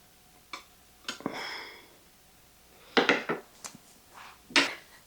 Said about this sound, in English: I do want to take it out of this pan so it's not sitting in these juices.